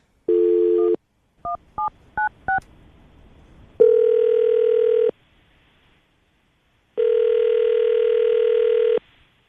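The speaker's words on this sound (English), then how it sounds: "we're going to call him right now" A telephone call: a brief steady tone, then a quick run of four keypad dialing beeps, followed by two long ringback tones with a silent pause between them, all clear and close.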